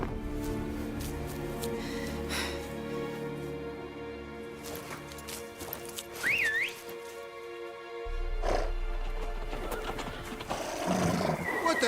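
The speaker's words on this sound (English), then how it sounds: "Horses? Ready our horses!" Several horses whinny and neigh, one shrill call standing out, while hooves clip-clop and people talk briefly in the background.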